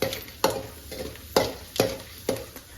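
Mustard seeds and chana dal fry in hot oil in a pan while being stirred, giving a loud close sizzle broken by a series of scraping, rhythmic stirring strokes and no talk.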